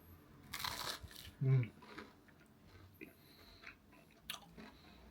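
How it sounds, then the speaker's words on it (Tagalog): A first bite of homemade shakshuka eaten with bread, giving a few soft, close chewing and biting crunches, one louder bite near the start, with quiet background room noise. "First bite."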